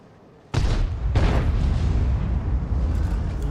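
A 9.2 inch howitzer shell explodes in a tank battle game, a sudden loud boom followed by a second blast a moment later, then a long rumbling, debris-filled roar that persists to the end.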